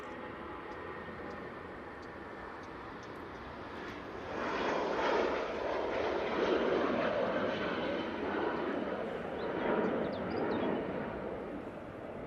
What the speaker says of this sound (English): Eurowings on the roll.